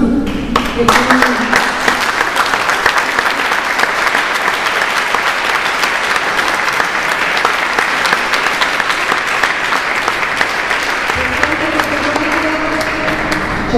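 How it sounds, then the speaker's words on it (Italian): Sustained, dense audience applause after a choir performance at a summer music event, steady and loud for the whole stretch, with a voice briefly heard at the end. "faccio invito con tutti a fare nuovamente un applauso perché hanno fatto un'esibizione bellissima"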